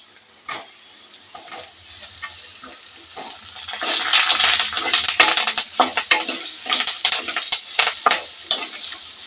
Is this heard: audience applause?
no